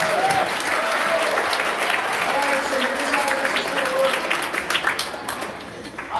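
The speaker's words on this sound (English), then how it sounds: "if anybody deserves an enormous round of applause, it's the two people that put this together today" A school assembly audience applauding for a guest speaker's event, a dense, loud burst of clapping that tapers off toward the end, with some voices mixed in.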